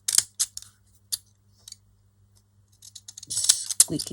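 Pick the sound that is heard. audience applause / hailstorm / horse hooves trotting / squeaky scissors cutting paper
squeaky scissors cutting paper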